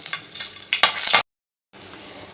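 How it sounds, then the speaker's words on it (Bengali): Nigella seeds and a green chili dropped into hot mustard oil give a loud, close crackling sizzle for about a second, then a short break, then a quieter steady fry. "সর্ষের তেলটা গরম হয়ে গেছে এবার তেলের মধ্যে দিয়ে দিলাম এক চামচ কালো জিরে এবার দিয়ে দিলাম একটা কাঁচা লঙ্কা"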